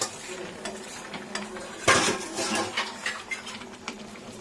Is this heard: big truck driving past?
no